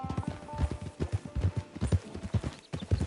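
Horse hooves clip-clop at a steady walking pace in Red Dead Redemption 2, close and distinct, with a few brief pauses between strides and no speech.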